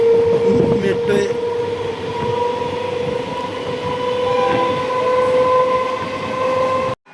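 Local train standing at a station, its steady engine hum and electrical whine carrying across the platform for several seconds, with brief voices in the background.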